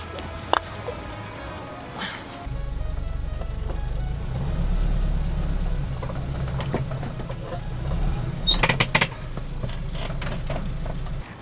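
An off-road vehicle creeps forward to climb its tyre onto a block, a low engine drone rising after a couple of seconds, with a few sharp knocks and clunks toward the end.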